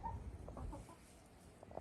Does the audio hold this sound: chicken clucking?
yes